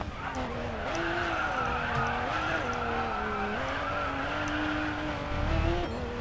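A Toyota GR Supra sports car engine in the racing game Racing Master drones steadily, its pitch rising and dipping with the throttle, with tire squeal and a faint voice underneath.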